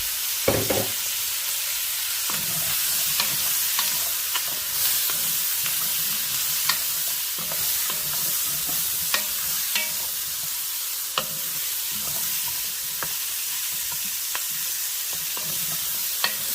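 Baby carrots sizzling in a pot while cooking for beef bourguignon, a steady hiss of frying with occasional stirring clicks and scrapes, close and continuous, with no talk.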